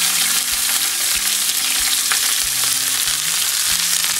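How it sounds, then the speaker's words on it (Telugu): Onions and curry leaves fry in a pan as a loud, continuous hissing sizzle, broken by regular low knocks and scrapes from stirring, with no talk. "ఉల్లిపాయలు ఒక 2 to 3 minutes ఫ్రై అయిన తర్వాత"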